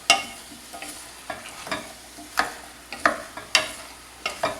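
Potatoes frying in bacon grease with onion get stirred in a pan over medium heat, a soft background sizzle broken by repeated scraping stirs at a steady, roughly half-second rhythm, close and clear with no talk.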